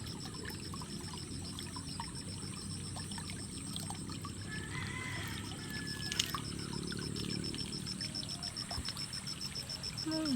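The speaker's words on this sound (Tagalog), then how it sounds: "Malakas po ang agos ng tubig dito sa may amin." A strong stream flows near a home, giving a steady, continuous rushing wash of water, moderately quiet, with faint scattered ticks and trickles over the even flow.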